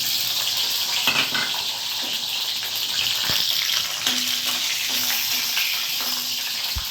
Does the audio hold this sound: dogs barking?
no